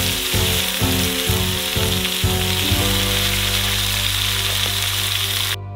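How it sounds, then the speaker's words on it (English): Steady, loud sizzling of chopped vegetables frying in melted butter in a hot pan, with a few rhythmic scraping stirs early on before the sizzle settles into a continuous hiss. "fry all the chopped vegetables in it"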